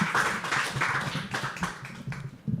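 An open-mic poetry audience claps for the next poet: a loud round of many hands that gradually thins into scattered, fading claps, with a final few taps at the end.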